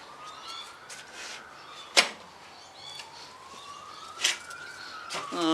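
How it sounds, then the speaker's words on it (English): Distant siren wailing slowly up and down in pitch, faint under room noise, with a couple of sharp knocks along the way. "Howling sirens, it means we'll have a howling dog soon."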